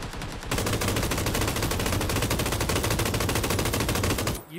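Rapid automatic gunfire in the video game PUBG, a loud, steady stream of evenly spaced shots lasting about four seconds before stopping.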